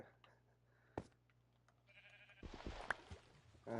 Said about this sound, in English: Shut the fuck up, sheep.